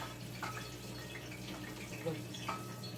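Water runs from a kitchen tap in a steady, low hiss during home cooking, with a few faint clinks of dishes mixed in.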